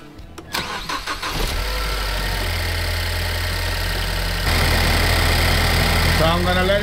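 A Ford Focus ST engine cranks and starts, then settles into a steady idle with a low rumble that rises slightly in pitch partway through.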